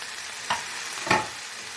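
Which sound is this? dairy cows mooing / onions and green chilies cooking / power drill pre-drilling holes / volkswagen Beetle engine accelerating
onions and green chilies cooking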